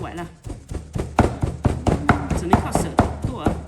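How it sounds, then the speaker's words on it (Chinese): Frozen meat being chopped by hand with a knife on a board, a rapid series of sharp, close knocks running steadily throughout, with a voice talking underneath. "把它剁碎一点。"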